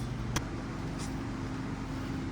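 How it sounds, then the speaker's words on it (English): A Simplicity snowblower engine idles steadily with a low, even drone, one sharp click near the start and a brief hiss later, no talking. "It runs and it idles."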